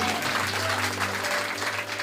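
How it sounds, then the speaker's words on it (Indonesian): Church congregation clapping together, a dense, sustained wash of applause from many hands at steady loudness, with a faint low hum underneath. "Tepuk tangan sekali lagi buat Tuhan."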